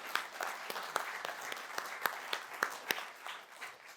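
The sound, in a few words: audience applause for event partners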